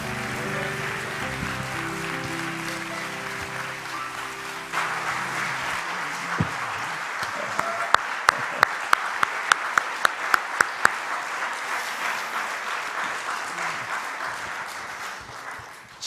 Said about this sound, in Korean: 우리 장로님들을 위해서 박수 한번 할까요?